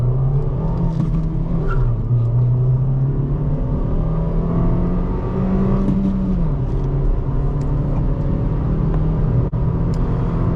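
A 2020 Nissan Versa S with a 1.6-litre engine and manual gearbox accelerating from a launch, heard from inside as a steady, droning engine note that rises in pitch, drops briefly at a shift, then climbs again.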